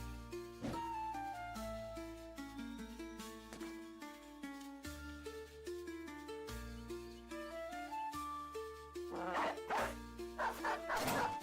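Dog barks from a video game creature, a puppy unit in a strategy battle, sounding in bursts over layered game music and effects, fairly loud, with heavier busy sound toward the end.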